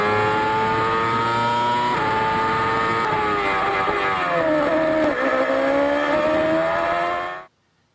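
A Formula One car accelerates through a corner on a race track, its high-pitched engine screaming loud and close with rising and shifting harmonics, continuous for about seven seconds before cutting off abruptly.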